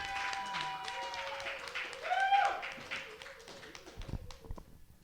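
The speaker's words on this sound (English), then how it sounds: "Keep clapping." Clapping from a live storytelling show audience is mixed with voices and cheering, the claps loose and uneven beneath shouted talk, swelling midway then fading.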